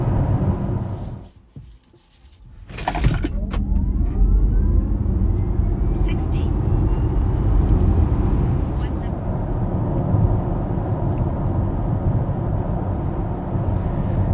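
Hyundai Ioniq 5 electric car accelerating hard in a 0 to 100 km/h run: a brief thump, then a steady loud rumble of road and wind noise with a faint rising electric-motor whine building over the run.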